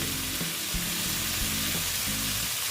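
Boiled banana flower hits a hot oiled pan and fries with a steady close sizzle, broken by a few soft bumps and stirring knocks and no voices.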